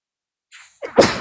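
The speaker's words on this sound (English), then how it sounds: "I'm going to sneeze." A single sneeze, short and sharp, preceded by a brief quick intake of breath.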